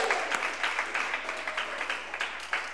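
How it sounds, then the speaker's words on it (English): A church congregation at a Sunday service claps for a couple's new baby, with steady, dense applause from many hands throughout, moderately close and unbroken by talk. "Can we just give them a round of applause?"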